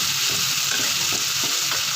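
Tomatoes sizzle and spit in hot oil in a pan for butter paneer, a steady close hiss with small crackles and a little stirring, and no voices.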